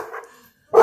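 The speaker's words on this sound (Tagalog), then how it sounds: "Ayan ang aso ko sis." A dog barks outdoors in the snow, with a softer bark early on, a pause, then a loud close bark at the end.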